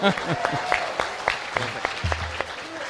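Scattered hand claps ring out from a small group, uneven and moderately loud, with talking blending in over the clapping.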